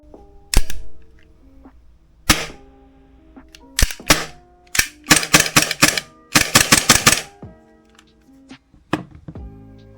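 Glock 45 airsoft gas blowback pistol fired indoors, sharp loud cracks with metallic slide clacks, first spaced singly, then in quick bursts of several shots; close to the microphone, no talking.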